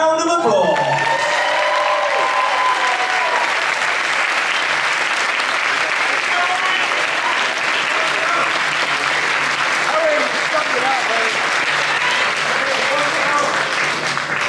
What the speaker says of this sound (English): Audience members, a round of applause.